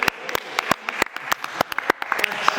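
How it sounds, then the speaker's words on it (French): A small group claps during a lively quiz game, sharp separate hand claps in an uneven burst, close and fairly loud against a quiet background. "on peut l'applaudir"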